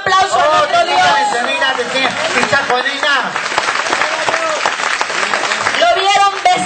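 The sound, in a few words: congregation applauding in church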